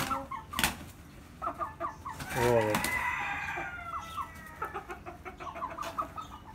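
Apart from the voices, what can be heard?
hen clucking at chicks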